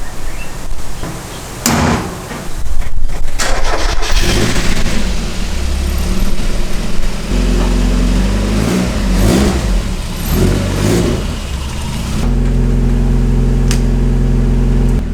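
A Mazda MX5 engine starts and idles, then revs and pulls away, steady mechanical rumble close by with a door thud early on and changing engine pitch as the car drives out.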